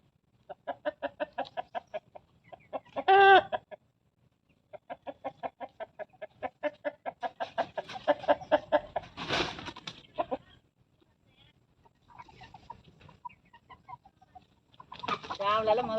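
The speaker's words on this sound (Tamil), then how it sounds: "கோழியெல்லாம் அணையருக்கு வந்துருச்சு எல்லாம். அங்கே பாரு, மேலே வர அங்கே போய் ஏறுது எல்லாம்." Hens and roosters on a farm cluck and squawk in repeated bursts, with one loud squawk near the start and another busier flurry midway, as the flock settles onto a high roost for the night, the calls up close and continuing throughout.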